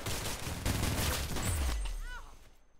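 Rapid bursts of gunfire crackle in the Roblox-style shooter game Arsenal, a dense fusillade of shots fading toward the end, fairly quiet in the mix with a player talking over it.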